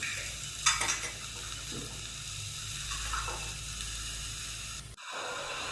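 Ingredients for sago khichuri are stirred in a pan, with a soft, steady sizzle and a few light scraping strokes of the spoon, fairly quiet and close, ending with a brief dropout before the hiss returns.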